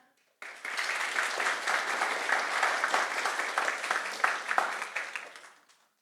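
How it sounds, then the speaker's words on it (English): An audience at a competition semi-final breaks into warm, sustained applause, many hands clapping together for several seconds before fading out. "Everyone, please give yourself a round of applause."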